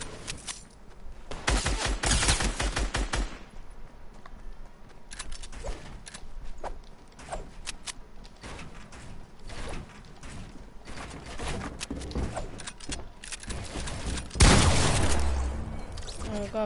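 Rapid bursts of synthetic gunfire in Fortnite crackle in quick volleys, loud and close, with mechanical clicks between and a heavier blast near the end.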